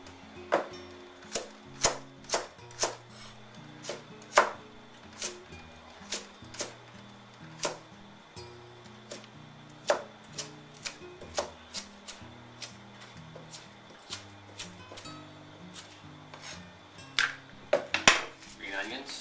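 A knife cuts carrots into julienne strips on a board, producing a steady run of sharp, evenly spaced chops that cluster faster near the end, close and clear with no talk.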